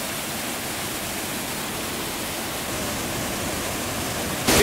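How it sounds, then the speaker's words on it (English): A waterfall in Dalat, Vietnam roars in a steady, dense rush of white water, loud and unbroken throughout. "let's go check out this waterfall"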